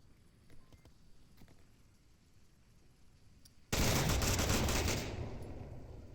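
M249 machine gun firing in the VR video game Onward, a sudden loud sustained burst of automatic fire after quiet background, trailing off in volume.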